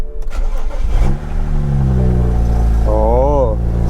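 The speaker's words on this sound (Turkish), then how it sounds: "Çalıştırmayacaktım normalde sıcak diye ama hadi bunu çalıştırayım." A car engine cranks and catches, then settles into a low, steady idle before a quick rev rises and falls, loud and close, with people talking nearby.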